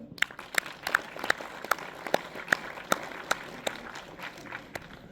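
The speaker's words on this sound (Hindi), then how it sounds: "मैं जोरदार तालियों से स्वागत करता हूं" Sparse, distinct hand claps, roughly a dozen sharp strikes spaced at a steady interval, sound at an event hall, welcoming a speaker; the claps stay moderately loud against a quiet room background.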